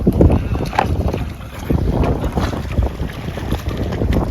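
Waves slap and wind buffets on choppy water around a small fishing boat off a remote island, a close, rough, continuous wash with gusty rumbling.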